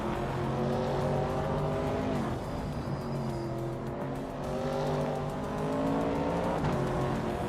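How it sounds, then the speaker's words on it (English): Race cars in a racing video game, including a 1962 Triumph TR3B roadster and a 1977 Lancia Stratos HF rally car, roar continuously with revving engines shifting pitch and brief tire squeal, loud and without talk. "The Dreamkeeper is driving a 1962 Triumph TR 3B, a classic British roadster"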